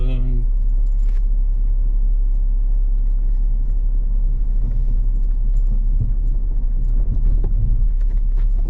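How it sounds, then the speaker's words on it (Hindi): A car pulling to a stop and parking on a rocky wadi track in northern Ras Al Khaimah, UAE: a constant low engine rumble with crunching and rattling over stones, heard close up in a loud interior, with a voice speaking early on. "मैं आई थिंक यहाँ गाड़ी पार्क करता हूँ"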